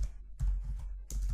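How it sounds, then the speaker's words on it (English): Keys on a computer keyboard are tapped in two short bursts separated by a brief pause, close and fairly loud, with no talk. "Then type next."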